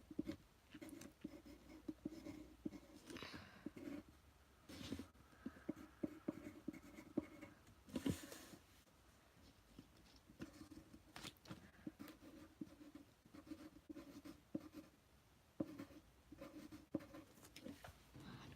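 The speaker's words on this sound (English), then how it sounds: "So let's write." Pen scratching across homework paper in steady, quiet strokes, with short pauses between bursts of writing and no voices.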